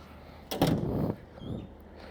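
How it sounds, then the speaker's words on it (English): A door is shut with a close, sliding rumble that lasts about half a second, followed by a softer scrape or latch sound a moment later, in an otherwise quiet room. "Closing the door."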